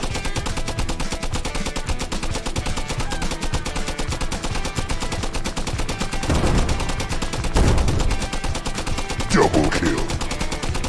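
Gunfire in the video game Guns 'N' Stories: Bulletproof, rapid steady bursts of shots rattling on throughout, with a few heavier booming blasts near the end, loud and close.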